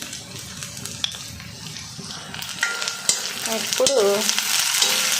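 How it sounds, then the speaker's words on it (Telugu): Food frying in an iron kadai with salt and turmeric, a steady close sizzle building louder, with spoon scrapes and stirring clatter; a voice speaks briefly at the start. "ఇప్పుడు దీన్ని కొంచెం సేపు వేగనిస్తాను."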